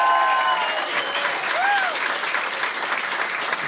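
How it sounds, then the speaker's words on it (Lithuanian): A bar audience at a stand-up roast battle comedy show applauds for the performers being introduced: sustained dense clapping with a couple of whistles from the crowd. "Plojimai jiems."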